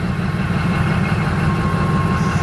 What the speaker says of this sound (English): And there's the engine there